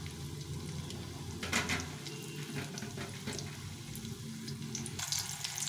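Fish-oil fritters (bora) frying in a pan of oil, giving a steady close sizzle and bubbling hiss with a few brief louder crackles and no talking.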